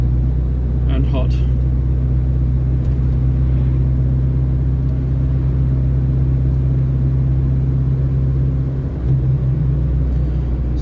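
A car drones along a road with a loud, constant low engine rumble and road noise, steady throughout, with a faint brief rattle early on.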